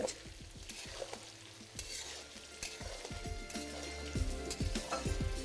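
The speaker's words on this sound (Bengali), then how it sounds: "ফুলকপিটাকে আপনাদের এখানে হাই ফ্লেমেই ভেজে নিতে হবে।" Cauliflower frying over a high flame sizzles and crackles continuously at close range, with repeated scraping and stirring strokes in the pan.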